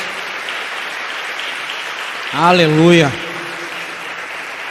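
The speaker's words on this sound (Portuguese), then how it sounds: "Dê uma salva de palmas ao Espírito Santo" A church congregation applauds steadily throughout, a broad wash of clapping at moderate loudness, while a single voice briefly calls out over it partway through.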